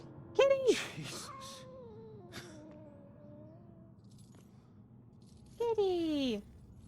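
A cat in the game Murdered: Soul Suspect gives a drawn-out wailing meow, then a fainter trailing one, and after a pause a final sharp descending yowl, close and clear over a low ambient hum.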